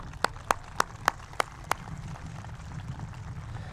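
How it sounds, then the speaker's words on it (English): At a high school graduation ceremony, six sharp, evenly spaced claps ring out over quiet room tone, then stop, leaving only a faint murmur. "Please give them a round of applause as well."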